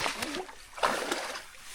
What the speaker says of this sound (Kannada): ವಾಟರ್ ಕ್ರಾಸಿಂಗ್ ನೋಡು, ರಿವರ್ ಕ್ರಾಸಿಂಗ್, ಹೊಳೆ ಕ್ರಾಸಿಂಗ್